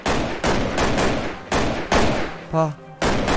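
Loud bursts of gunfire in a zombie apocalypse video game, several heavy volleys in quick succession with short gaps, plus a brief voiced exclamation partway through.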